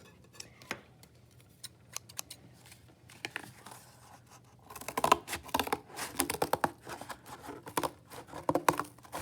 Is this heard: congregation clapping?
no